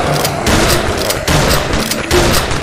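A shotgun firing in a horror video game, heavy booming blasts coming in quick succession over a dense, loud wash of game noise, close and continuous for the whole stretch.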